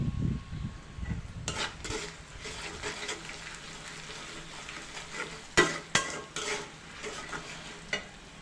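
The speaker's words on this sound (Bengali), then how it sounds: "দিয়ে দিব হলুদ সামান্য পরিমাণ এবং দিয়ে দিব ধনিয়ার গুঁড়া এবং এটাকে ভালো করে নাড়তে হবে" Chopped pointed gourd is stirred in a hot pan with turmeric and coriander powder: close, steady frying sizzle under repeated scraping strokes of a utensil, with a few sharper clacks against the pan toward the end.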